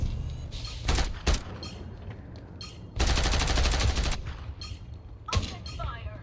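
Gunfire from a Bootleg Fortnite shooter game crackles in repeated sharp shots and a long rapid automatic burst, loud and close, with gaps between volleys.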